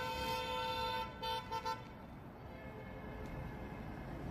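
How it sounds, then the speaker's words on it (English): Car horns blare in support of protesters at a nighttime street gathering, a few sustained and short toots in quick succession, then fading into a low rumble of street noise. "Everybody's honking, showing love for protesters who are out here tonight."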